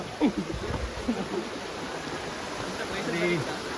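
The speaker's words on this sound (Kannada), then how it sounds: "ಅದೇ ಕೂಳು ತೀರ್ಥ ಫಾಲ್ಸ್." Rushing water at Koodlutheertha (Kudlu) waterfall makes a steady broadband roar throughout, with brief voices breaking in over the constant flow.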